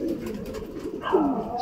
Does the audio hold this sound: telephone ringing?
no